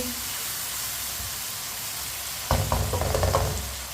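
Tinda (apple gourd) pieces fry in a pan as a steady sizzle, joined midway by louder stirring scrapes and crackles close up.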